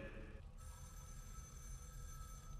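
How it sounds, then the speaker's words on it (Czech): A telephone rings in the horror video game Hellhouse, an electronic ringing tone that starts after half a second and sustains steadily, faint and alone over a low background hum. "Místo toho zvoní telefon."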